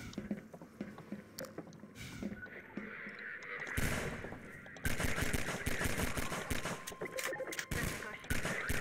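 Gunfire from Half-Life 2 comes in dense, rapid bursts and scattered shots, loud and close throughout, with a brief lull before heavier sustained firing resumes.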